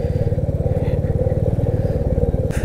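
A motorcycle descends a very steep slope of the Zoji La mountain pass in second gear. Its engine drones close and loud with a steady, even rumble throughout.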